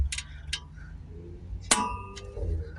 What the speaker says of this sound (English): So just remove the clamp.